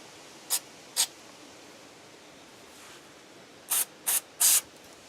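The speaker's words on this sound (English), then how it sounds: "Brake cleaner all over me." Brake cleaner is sprayed on the brakes of a classic Mustang in five short hissing bursts, two spaced early and three in quick succession later, the last longest and loudest, over a faint background.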